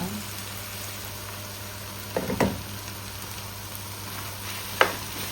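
Honey pork stir fry cooking in a covered pan gives a steady, soft sizzle and hiss, broken by a couple of brief clinks of a utensil or lid.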